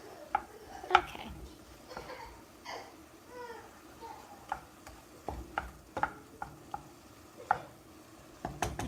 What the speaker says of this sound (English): we give our pasta a quick stir so it doesn't stick